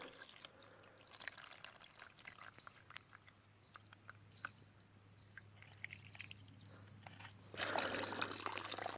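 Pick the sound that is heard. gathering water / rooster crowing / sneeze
gathering water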